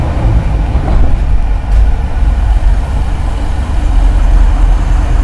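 A Range Rover Classic engine pulls loud and steady in third gear while rolling slowly up a ramp, a deep continuous rumble close by with no talk over it.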